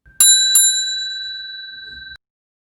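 A bright electronic bell notification chime rings twice in quick succession, then one clear tone rings on and fades out, alone with no talking.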